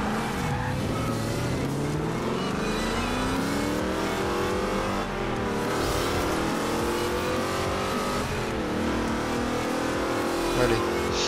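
A car drifts in Forza Horizon 2, its engine roaring at high revs with shifting pitch and tires squealing in long sweeping slides, loud and continuous throughout.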